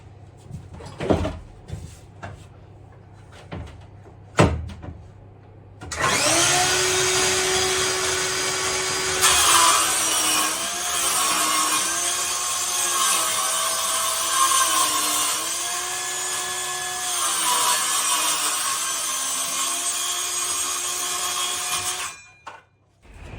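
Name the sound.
jigsaw cutting wall lining board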